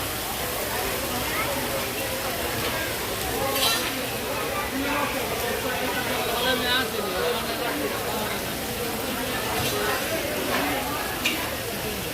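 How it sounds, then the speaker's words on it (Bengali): Fish frying in hot oil at a riverside eatery near the Padma Bridge at Mawa, giving a steady broadband sizzle throughout with occasional stirring clinks, while voices talk in the background. "এই তো আমাদের মাছটা ভাজা হচ্ছে"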